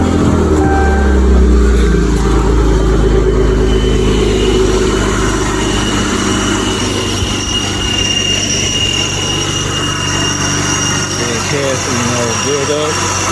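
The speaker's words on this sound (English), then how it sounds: "just crank up the car" A supercharged car engine runs loud and close in a steady, droning idle, with a voice heard over it and rising revs near the end.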